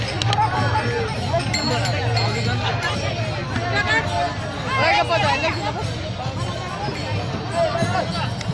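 Dense crowd of pilgrims walking in the Tukaram Maharaj dindi procession, a steady loud hubbub of many overlapping voices and chatter with occasional clinks, continuous throughout.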